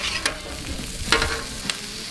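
A bed of vegetables cooks on a Pit Boss griddle in a steady, close hiss, with three brief crackling flare-ups spaced through it and no talking.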